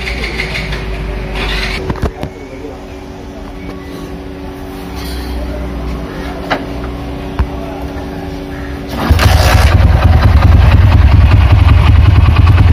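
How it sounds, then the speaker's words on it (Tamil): A motorcycle engine turns over and settles into a steady idle around 1000 RPM, then grows noticeably louder near the end with a broad, rumbling roar as it is revved. "இப்போ கீ ஆன் பண்ணுறேன், வண்டி ஸ்டார்ட் பண்ணி பார்க்க போகிறோம்."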